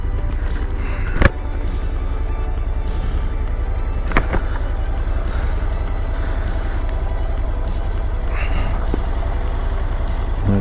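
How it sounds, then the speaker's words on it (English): Heavy road noise on an open English country road, with a truck passing a Honda NC750X motorcycle; a steady loud rumble with wind buffeting and a few sharp transient knocks throughout. "Okay, we have a truck, and then it's an open road."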